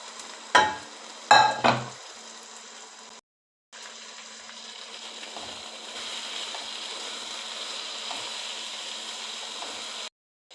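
Fried soya chunks added to a well-cooked spice paste for a soya curry, hitting the pan with a few sharp clatters, then a steady, moderately loud sizzle as they are stirred, with no talking.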